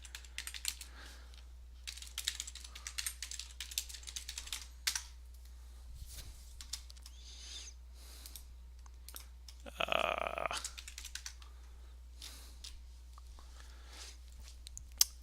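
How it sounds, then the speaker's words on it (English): Rapid clicking keystrokes on a computer keyboard in bursts of uneven rhythm, close and fairly quiet, with a short louder flurry midway and no talking. "I'm actually going to type here."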